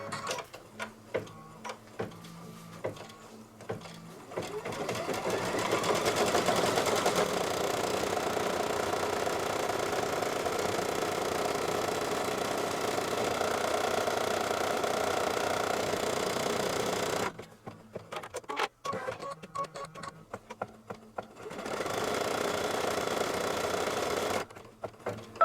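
An embroidery machine stitches a potholder with a rapid, steady mechanical chatter that runs continuously. It stops briefly and then resumes near the end.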